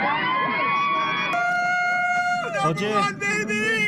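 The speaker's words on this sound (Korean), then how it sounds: "어제 다저 스테디움 소리입니다" A packed Dodger Stadium crowd during a Dodgers–Phillies game fills the air with loud, continuous roaring and cheering, with sustained tones rising over the din and a noisy swell of shouts near the end.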